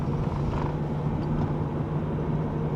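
A base-model Acura RSX engine drones under load while driving uphill, with a low, constant hum and road rumble, heard from inside the car without talking.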